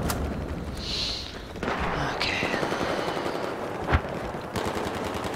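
Battlefield 4 gameplay with rapid bursts of machine-gun fire and scattered gunshots, one sharp loud shot standing out, amid game ambience.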